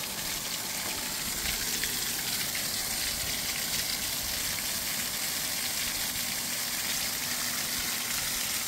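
Water gushing steadily and loudly out of a pool being drained, a constant dense rush with no pauses, heard alone.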